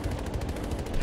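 Rapid automatic gunfire in the video game Battlefield 2042, a dense, steady burst of shots filling the short stretch with no talking.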